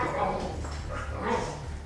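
A boy barks like a dog, a voice imitating canine barks and whimpers indoors in a bedroom, with a few short repeated yelps under nearby speech.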